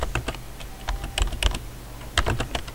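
Typing on a computer keyboard while coding a Visual Basic 2008 auto clicker, with close, clear key clicks arriving in irregular bursts and short pauses, and no talking.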